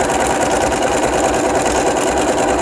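Bernina 325 sewing machine stitching a decorative stitch, a loud, close, continuous whirring hum with a fast even mechanical pulse and no one speaking.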